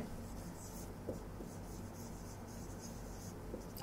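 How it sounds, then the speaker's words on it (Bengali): A pen scratches across paper in quiet, continuous short strokes, close and faint, with a soft low background hum. "আমি আপনাদের সহজের জন্য আবার অর্থটা লিখে দিচ্ছি"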